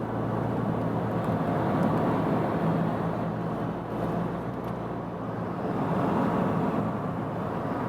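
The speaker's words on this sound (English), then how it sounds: "Getting to the motorway, we'll accelerate a little bit more." Nissan X-Trail in all-wheel drive mode accelerating onto a motorway, heard from inside as a steady, loud engine and road drone that swells slightly, with no talking.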